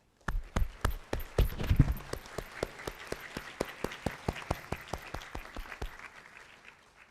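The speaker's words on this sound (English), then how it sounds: "let us give them a round of applause to express our gratitude" Audience applause at a Hong Kong college's annual speech day, a dense burst of many hands that thins into a steady run of separate, rhythmic claps before fading out, heard alone without voices.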